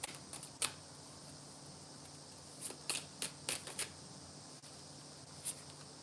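Tarot cards being shuffled and drawn at a reading, scattered soft flicks and several sharp card snaps spaced across a quiet room, close and faint with no talking.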